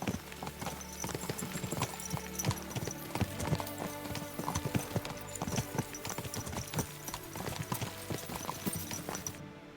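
Horse hooves clip-clop steadily throughout, with a faint whinny, from a ridden horse in the medieval Kingdom Come: Deliverance 2 video game, over light ambient background.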